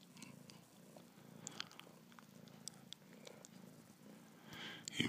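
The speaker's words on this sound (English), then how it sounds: "You look very happy, purry puss cat." A contented cat purrs softly and steadily close by, with a few faint clicks and rustles, then a louder bump right at the end.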